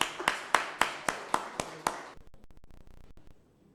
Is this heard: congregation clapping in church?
yes